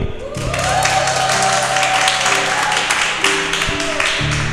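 Church congregation clapping and cheering, loud and close, with sustained musical tones from an instrument underneath and a few sharper claps standing out.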